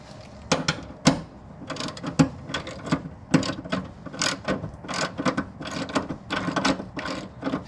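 A ratchet wrench tightens the bolts of a front chassis brace on a Chevrolet Cobalt, giving repeated bursts of close, loud clicking with short pauses between strokes.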